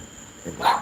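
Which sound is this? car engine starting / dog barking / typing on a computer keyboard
dog barking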